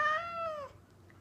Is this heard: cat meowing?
yes